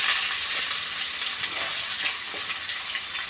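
Onion frying in hot oil in a pan, a dense, continuous bright sizzle heard up close with faint stirring, no voices.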